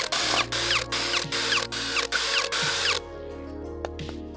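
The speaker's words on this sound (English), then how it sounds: "In the finished parts, we drill 4 holes in each using a large drill bit." A power drill with a large bit bores holes into wooden parts for a forest sauna build, running in several loud whining bursts with short pauses between them, then winding down and stopping near the end.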